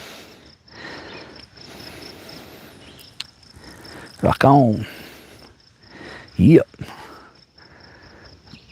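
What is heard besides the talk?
crickets chirping at a mountain lake campsite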